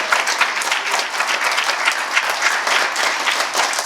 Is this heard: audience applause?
yes